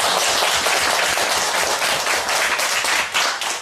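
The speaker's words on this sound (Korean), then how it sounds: "감사하며 영광의 박수 올려드리겠습니다." Church congregation clapping in unison, dense steady applause from many hands filling the room, loud and continuous without speech.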